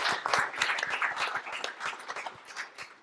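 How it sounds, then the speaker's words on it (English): Audience applause for an event sponsor at a car dealer gathering, a dense continuous round of clapping from many hands that holds steady and tapers slightly toward the end. "So round of applause for Motorway, please."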